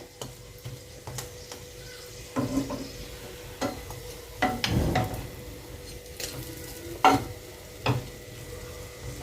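Mughlai paratha frying in a pan, a soft steady sizzle broken by several distinct presses and spatula taps as the middle is pushed down, close and fairly quiet, no talking.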